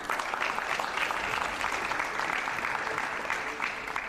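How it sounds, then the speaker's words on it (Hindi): Studio audience applause during a live Hindi television news show, a steady, crowded clapping that holds at an even level for several seconds without talk over it. "तालियां थोड़ी कम आ रही है"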